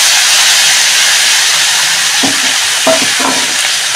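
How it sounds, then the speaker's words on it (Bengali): Chopped green chillies tempered in hot oil for khichuri give a loud, steady hiss and sizzle, with a few soft knocks near the end and no talking. "লঙ্কা কেটে নিয়েছি, এটা আমি ফোড়নে দিয়ে দিচ্ছি।"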